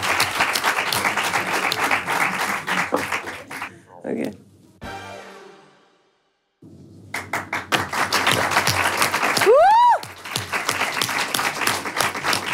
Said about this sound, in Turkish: Çok sağ ol alkışlayalım Selin Hanım'a.